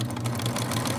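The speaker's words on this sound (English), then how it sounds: "why is there a sewing machine in the forest?" A sewing machine runs steadily at close range, a continuous rapid mechanical whir with a low rhythmic hum throughout.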